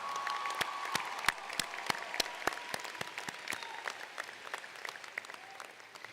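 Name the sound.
applause at graduation ceremony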